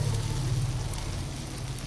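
Eggplant fries lightly in a pan of oil, giving a steady, close, rain-like sizzle throughout the brief moment, with no speech.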